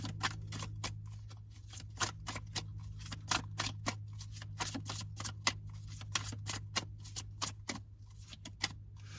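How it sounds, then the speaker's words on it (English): Tarot cards being shuffled by hand, close and quiet, a series of crisp riffling snaps and flicks in an irregular rhythm over a low steady hum, with no talking. "I'm going to go ahead and shuffle and see if anything else comes out."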